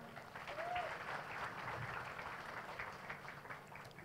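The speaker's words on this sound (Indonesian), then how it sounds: "Tepuk tangan." Steady audience applause at a talk show honoring a young city mayor, a continuous moderately distant patter of many hands clapping for the full length with a faint murmur of voices.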